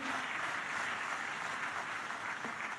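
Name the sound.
audience applause greeting Amit Shah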